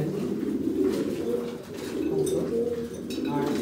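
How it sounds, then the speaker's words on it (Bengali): Pigeons coo softly and continuously in a loft, low rounded calls close by, with faint background noise. "দেখতে পাচ্ছেন এখানে মিনি কবুতরটা আছে, আর চপগুলো ডিম নিয়ে বসে আছে"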